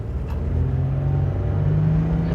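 A Honda/Isuzu car with a P0300 random misfire code and a steady check engine light gives a steady, rumbling engine drone that rises slightly as it accelerates, heard close and without talk.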